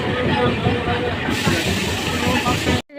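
A commuter train at Ichhapur station gives a loud, continuous rumble and hiss, with rattling wheel noise close by. The noise steadies midway and then drops off abruptly at the end.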